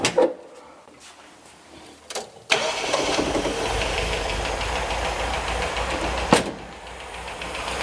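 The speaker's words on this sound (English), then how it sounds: "The engine runs. It sounds wonderful, but I think it's very, very knackered." A worn 1977 MGB Roadster engine turns over and catches, then settles into a steady, rough-running idle with a loud roar close by.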